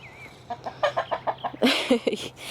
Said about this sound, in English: This is our only rooster.